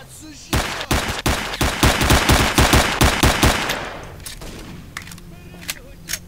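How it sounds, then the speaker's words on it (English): Rapid gunfire in S.T.A.L.K.E.R. Shadow of Chernobyl, about a dozen loud close shots in a fast rhythm over three seconds, then fading to quiet. "Come on, I shot you like 10 times."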